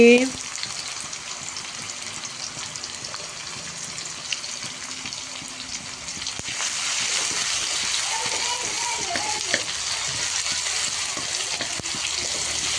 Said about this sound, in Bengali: এগুলো ভালো করে ভাজা হয়ে যাক, গোল্ডেন ব্রাউন হয়ে তারপরে খিচুড়ি দিয়ে দেব